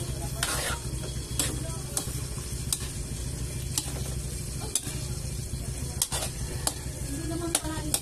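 Squash and eggplant sizzling in a pot for Filipino pinakbet, a steady frying hiss with scraping stirs and occasional sharp clinks of a utensil against the pot.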